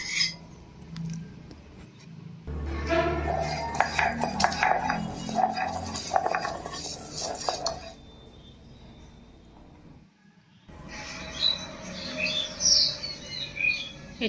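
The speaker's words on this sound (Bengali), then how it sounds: "এবার নারকেলটি আমি প্রথমে বেটে নিচ্ছি।" Coconut is ground into a paste for a Bengali banana-flower mash, with a scraping, rubbing grind that runs for several seconds, stops, then resumes more faintly, while birds chirp in the background.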